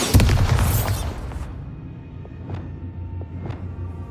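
A Bombarda blasting spell goes off in Hogwarts Legacy, a loud booming burst that rolls and fades over about a second, followed by a quieter game ambience with a couple of faint ringing chimes.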